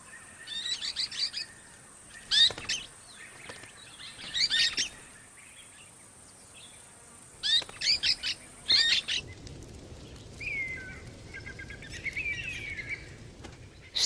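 Parrot chicks and their father in the Australian bush during the dry season give bursts of high, shrill chirping calls, with quieter gaps between clustered outbursts, later followed by softer chattering.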